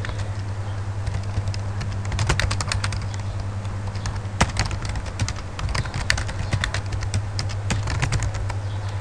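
Fast, steady clatter of a computer keyboard as Python code is typed, close and fairly loud over a low constant hum, with bursts and brief pauses and no talking.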